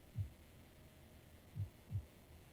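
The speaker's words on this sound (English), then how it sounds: "small grid, small ion thrusters against a floor with a shield installed sounds like a heartbeat" Small ion thrusters on a small grid pressing against a shielded floor in Space Engineers, with dampeners off, throbbing in a low, faint heartbeat-like pulse: three soft thumps, the last two close together, over a steady hum.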